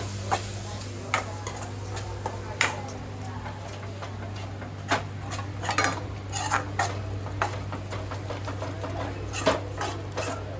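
Chicken being mixed with masala in a pot, with repeated scraping and clinking of a spoon against the metal, irregular taps over a steady low hum.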